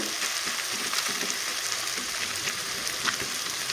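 A whole duck egg fries in a pan, giving off a steady, moderately loud broadband sizzle with small crackles and no talking.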